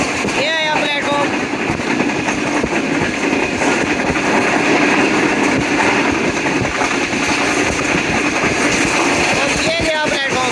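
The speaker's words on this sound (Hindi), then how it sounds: "Shalimar express eight foot speed 107 kilometre per hour पे जा रही है गाड़ी।" Shalimar Express passenger train running at about 107 km/h through a station platform near Safdarabad, heard from inside: a loud, steady roar with rattling wheels throughout, and a voice briefly at the start and end.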